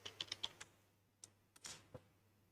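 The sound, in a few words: typing a command on a computer keyboard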